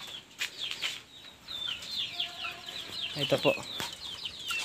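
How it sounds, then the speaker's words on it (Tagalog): Large chicks on a Philippine farm chirp and cluck in quick, bright bursts close by, with a brief line of speech partway through and some soft rustling around them. "Ito po yung sisiw po natin. Malalaking sisiw."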